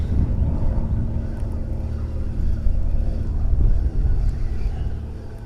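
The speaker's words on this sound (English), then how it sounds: "that wind picked up just in that time it took to come over here" Wind blows outdoors by the water where bass lures are being cast, a steady low rumbling buffet on the microphone that swells slightly in the middle and runs throughout without talk.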